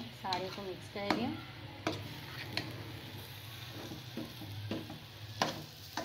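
Potato chutney masala is being mixed in a pan, soft intermittent scraping strokes and light clicks over a gentle background sizzle, fairly quiet, with a voice talking partway through.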